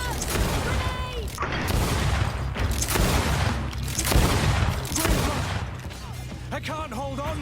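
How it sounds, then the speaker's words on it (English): A grenade blast amid a chaotic battle in GreedFall, with booms and crashing impacts rolling continuously over layered combat noise and shouted voices. "Watch out! Grenade!"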